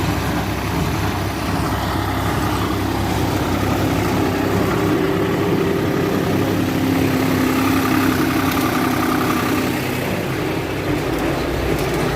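A New Holland tractor engine drones steadily and loudly at idle throughout, with a deep low rumble and a faint rattling hum, no voices.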